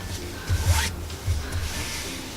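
A zipper is handled and folded while sewing a snap wallet, giving a few short, close rasping zips and rubbing scrapes in quick bursts against light background noise.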